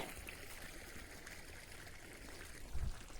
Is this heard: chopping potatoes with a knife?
no